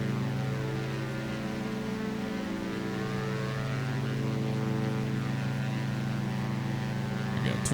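A propeller aircraft engine in the X-Plane 11 flight simulator, running at 2200 RPM on a flight from Daytona Beach, drones steadily throughout with a constant close, loud hum.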